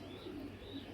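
Racing pigeons from a prized bloodline coo softly in a loft, a low, rolling call heard close and alone for about a second.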